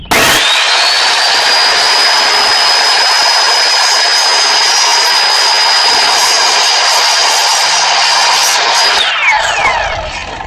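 A power saw rips through a wooden board for a Shaker peg rail, a loud steady whine that holds for about nine seconds near the mic before spinning down at the end, with no talking.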